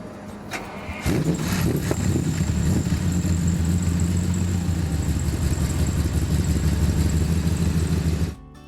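A truck's engine cranks and catches, then races at a high, steady idle right after start-up, loud and close with no talk, before cutting off abruptly.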